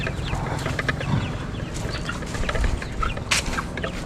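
Chickens cluck busily and flap their wings as they fly about, close by, with overlapping calls and wingbeats over a constant background din.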